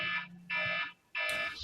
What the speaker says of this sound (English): Somebody set the alarm off.